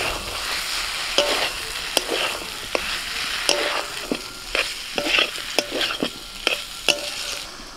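Potatoes, fruit and prawns fry in a sizzling spice paste, with a utensil scraping and stirring the pan in repeated sharp strokes over a steady crackle, close and fairly loud, with no talking.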